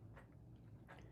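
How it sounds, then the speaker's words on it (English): Kiki chews something in the background, two soft, brief crunchy bites spaced apart over a steady low hum, faint and close-miked. "if you hear chewing in the background, Kiki's just chewing stuff"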